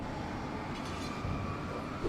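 A train in Alan Wake rumbles steadily at a moderate distance, a low continuous rolling drone with faint metallic overtones and no voices over it.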